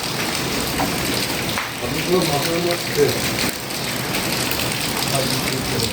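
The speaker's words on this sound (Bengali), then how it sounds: "এই যে বৃষ্টি হচ্ছে" Steady rain falls continuously in a village, a dense even hiss with occasional heavier drops, while voices talk faintly underneath.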